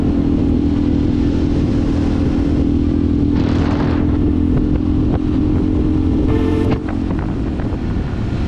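Honda Varadero 125, a small-capacity motorcycle, riding along a lakeside road in Poland: steady engine drone with heavy wind buffeting on the microphone throughout, no talking.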